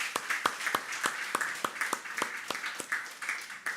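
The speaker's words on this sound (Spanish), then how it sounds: "Le damos un aplauso al Señor por eso" A church congregation claps in a loose, fairly quick rhythm. The sharp claps sound near and distinct, with fainter clapping behind them.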